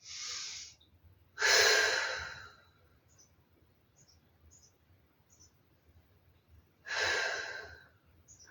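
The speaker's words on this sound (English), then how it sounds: "Open, deep breaths." Deep breathing during a Pilates recovery stretch: three close, soft breaths, a short one, a longer full exhale, then another after a pause, with quiet between them.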